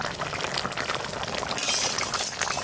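A thin Bengali pomfret fish curry simmers steadily in a pan on a village stove, with a constant soft bubbling and fizzing that stays close and even throughout.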